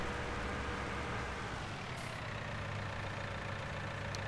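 Steady droning tractor engine in Farming Simulator 2019, a constant low rumble with even tone throughout, moderately loud and uninterrupted, no voices.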